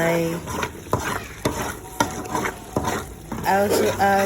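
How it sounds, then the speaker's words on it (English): Cow head and chicken pieces frying together in a pot for stew, with repeated stirring scrapes and a steady sizzle running throughout, close and moderately loud, no talking. "So I fry them together."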